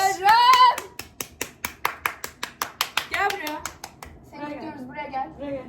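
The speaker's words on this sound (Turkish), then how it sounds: "Alkış." A small group claps in a steady rhythm of about twenty sharp hand claps, close and fairly loud, with a voice exclaiming at the start and people chattering afterward.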